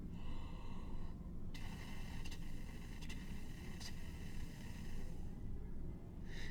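Steady breath blown close to the mic for a wind instrument tonguing exercise, a soft continuous airy hiss broken by four brief tongued interruptions, faint under room noise.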